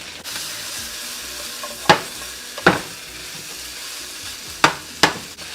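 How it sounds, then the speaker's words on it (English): Onion sautéing in a pan with rotisserie chicken, a steady close sizzle punctuated by four sharp spatula scrapes or taps spaced a few seconds apart. "We're going to throw in some onion. And this is more like a quick saute."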